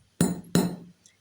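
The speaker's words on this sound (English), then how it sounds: "we're going to hammer a little bit. We're just going to hammer it flat" Two sharp hammer strikes flattening a copper cuff bracelet, each a loud ringing metallic clank with a short decay, close and alone.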